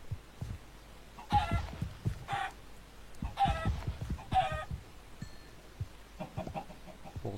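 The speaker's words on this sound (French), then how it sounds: "Poulet." Chicken clucking in the Minecraft Doctor Who Dalek mod survival game, several short bursts of clucks over a few seconds at moderate loudness, with faint background noise and no talk.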